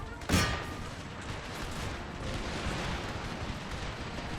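A musket regiment in Empire: Total War fires a single sharp volley near the start, followed by a low, continuous rumble of distant battlefield noise.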